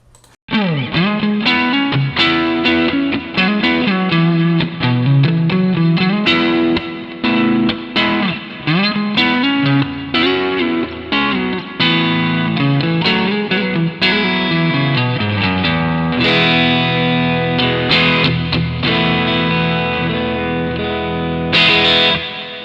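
Overdriven electric guitar through an amp model, with dense, distorted riffs and chords played continuously with slight chorus and reverb, loud and upfront with no voices.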